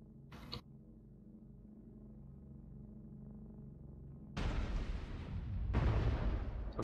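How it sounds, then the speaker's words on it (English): Weapon fire hitting a mech in the video game MechWarrior Online during a 12v12 match, a short sharp hit followed by a low hum, then two heavy booming impacts close together. "I'm taking fire."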